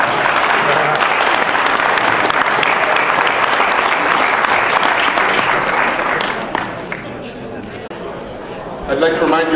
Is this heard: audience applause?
yes